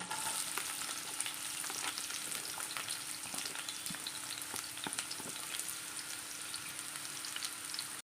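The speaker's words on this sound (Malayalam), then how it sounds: "നമ്മൾ കുറച്ച് വെളിച്ചെണ്ണ ഒഴിച്ചു കൊടുക്കാം ഇഞ്ചി ഇട്ട് കൊടുക്കാം നമുക്കിത് സവോള ഇട്ട് കൊടുക്കാം" Onion and ginger fry in coconut oil for a Kerala-style mango curry, giving a steady, close sizzle that runs the whole way with small crackles and pops scattered through it.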